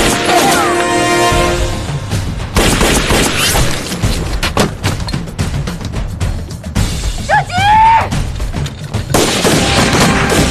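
Loud, sharp gunfire and crashing impacts from an anti-Japanese war film, with several violent bursts and breaking debris packed across the scene and a brief shouted cry in the middle.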